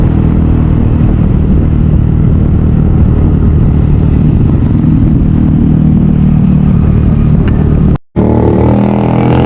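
Several motorcycles roll up at a project site in Candaba, their engines a loud, continuous close rumble with clattering mechanical texture, cut by a brief dropout near the end before the engine noise resumes.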